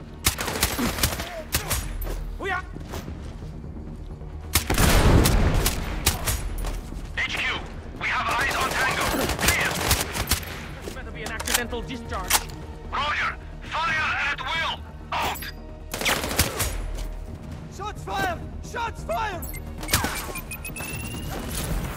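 Gunfire in the video game Sniper Ghost Warrior Contracts 2, bursts of shots and crashing impacts scattered through the stretch, with a player talking over the action at times.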